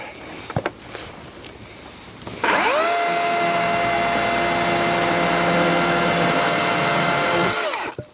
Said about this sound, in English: this is my 60 volt DeWalt chainsaw. It's got a 20 inch bar on it and chain